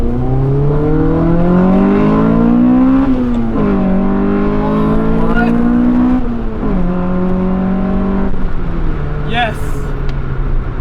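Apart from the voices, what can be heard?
Honda Civic EF9 SiR B16A VTEC engine revving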